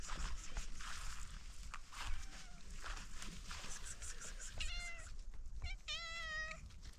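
A black cat wearing a yellow collar meows twice near the end, clear and close, over steady outdoor rain on a rural raspberry farm, with faint footsteps earlier.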